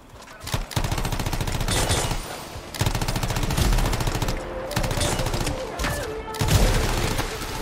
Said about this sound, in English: They're under heavy fire!